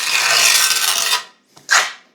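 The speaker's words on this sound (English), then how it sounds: "Now I'm going to drag the trowel that way, because if I drag it this way I'll get glue all on the edge." A notched trowel scrapes through tile adhesive on a bare floor in one long gritty drag, then stops and gives a shorter second scrape, close and loud with no talking.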